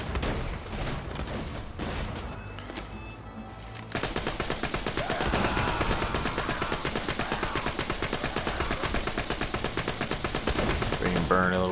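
Infinity pistol firing in Borderlands: The Handsome Collection, a steady rapid stream of loud gunshots that grows denser and continuous midway, with game effects layered around it.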